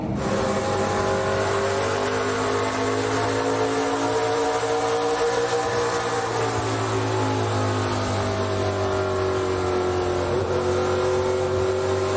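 ARCA Menards Series race cars lapping Iowa Speedway during the 2021 Shore Lunch 150 make a loud, continuous roar of many engines whose pitch sweeps and layers as the pack runs close together.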